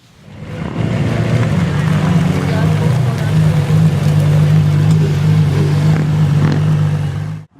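An orange 2006 Lamborghini Gallardo runs with a loud, steady low engine drone that swells in quickly and holds throughout, then cuts off abruptly at the end.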